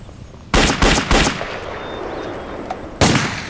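Machine gun fire in a war film: a rapid burst of three loud shots, a quiet pause with faint ringing, then one more loud shot near the end.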